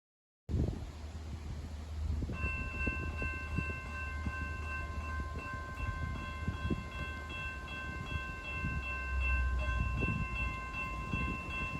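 A Norfolk Southern freight train shoves backward past a handheld camera near Hummelstown, a steady rumble and rolling wheel noise starting abruptly, with a sustained high tone over it, loud and close throughout.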